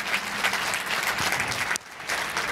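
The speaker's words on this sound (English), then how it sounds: "A round of applause for her, please." Audience applause at a conference panel on women entrepreneurs and finance, a dense, steady clapping from a crowd that drops briefly near the end and then continues.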